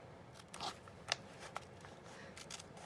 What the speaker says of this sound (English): I'm just going to go ahead and give it a snip down the edge here.